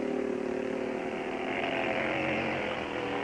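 A racing motorcycle at the 1955 Catalina Grand Prix roars past in a continuous, loud, raspy engine drone that holds steady throughout, with no voices.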